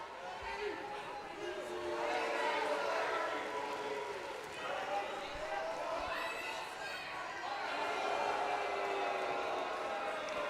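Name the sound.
arena crowd reacting in the WWE2K video game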